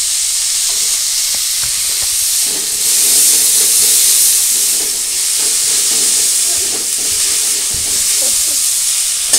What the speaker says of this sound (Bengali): এই জন্য আমি দেখুন এইভাবে একদম পুরো হালকা করে পেঁয়াজটা একটু ভেজেছি